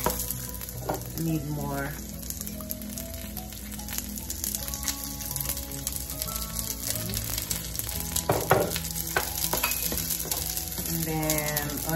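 Garlic sizzling in oil in a pan for pork menudo, giving a steady hiss and crackle with light clinks of stirring and a brief spoken comment.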